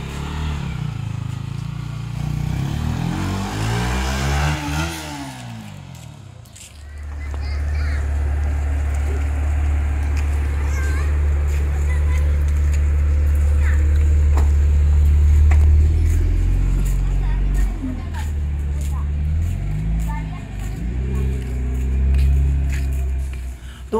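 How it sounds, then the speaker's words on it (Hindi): Car engine with a dead battery cranking weakly, a low, labored churning that struggles on and off over many seconds without catching, close by, with someone talking throughout. "इसका बैटरी पूरा डाउन हो चुका है चक चक कर रहा है"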